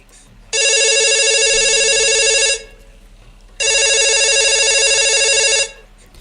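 Incoming call on a telephone: two loud, identical electronic ring bursts of about two seconds each, separated by a short pause, heard close and alone over a quiet background.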